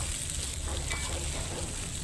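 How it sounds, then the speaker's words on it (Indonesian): Spice paste frying in oil for dried tempe and anchovy crispy snack, a steady close sizzle running the whole time with no talk. "Jadi masih saya lanjut lagi menggoreng bumbunya."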